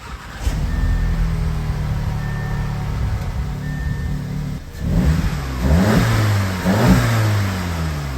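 Car engine cranking and catching after an oil change, then idling steadily up close, with a couple of revs swelling toward the end.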